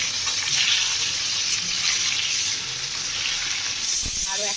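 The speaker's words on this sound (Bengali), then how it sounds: "এই যে একটু আলুটা হালকা করে ভেজে নিচ্ছি।" New potatoes fry lightly in hot oil, giving a loud, close, steady sizzle that swells briefly near the end, with a clink of a utensil.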